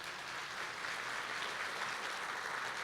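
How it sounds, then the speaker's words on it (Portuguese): Congregation applauding during a church service, a soft, even wash of clapping from many people that stays steady and somewhat distant, with no talk over it. "Dê um aplauso ao Senhor por isso."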